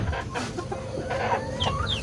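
Roosters and hens cluck and call close by in a farmyard chicken pen, with a couple of brief higher crowing squawks near the end and steady fowl chatter throughout, no talking.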